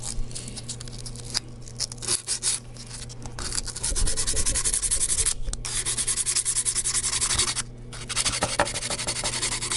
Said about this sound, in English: Redoing what I just did with a file, obviously, but with sandpaper instead